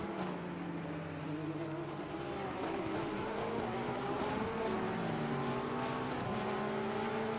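Porsche and McLaren race cars from a video game at Zolder, engines screaming and shifting pitch as they exit a chicane, a steady loud drone with rising and falling tones throughout, no talk.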